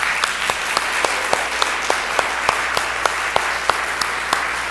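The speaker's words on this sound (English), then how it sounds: "I invite us to, with our applause, to welcome them into this," A church congregation applauds to welcome new members, steady, moderately loud clapping from many hands filling the room without a break.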